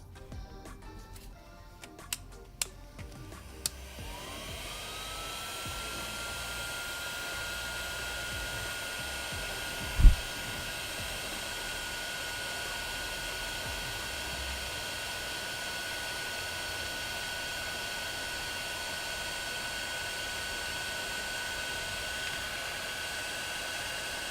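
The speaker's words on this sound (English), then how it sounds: "I'm just going to use this as a tack light heat gun. Nothing special. I've got it set to 5." A tack-light heat gun set to level 5 blows a steady, moderately loud airflow hiss that keeps going, shrinking heat-shrink tubing, with a few brief clicks near the start and one sharp knock partway through.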